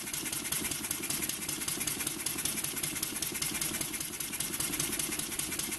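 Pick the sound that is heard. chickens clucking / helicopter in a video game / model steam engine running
model steam engine running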